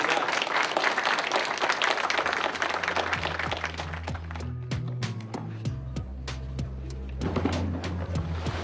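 A crowd at a firefighters' contract vote and picket gathering breaks into broad, loud applause and clapping that thins midway, then swells again near the end, with faint background noise.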